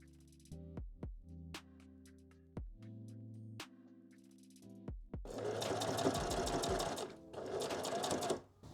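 A sewing machine stitches around the edges of a small fabric dollhouse couch, with short start-stop bursts of running and then a longer steady whir near the end.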